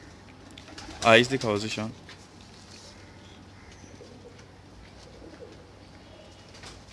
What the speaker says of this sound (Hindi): दोस्तों ये प्योर हीरा लाल कबूतर हैं